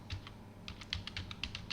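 A web address typed on a computer keyboard: quick, close, irregular keystrokes clicking in a short burst, with a brief pause early on.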